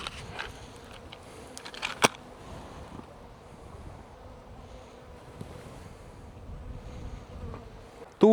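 Honeybees buzz around beehives outdoors in a low, steady drone, moderately close, with wind noise over the microphone and a few sharp knocks and bumps.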